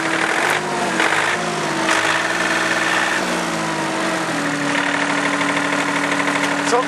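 A snow-clearing tractor engine idles roughly up close, a steady loud mechanical drone with uneven knocking and shifting tone, running alone without speech.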